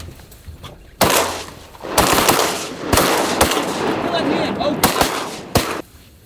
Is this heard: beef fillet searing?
no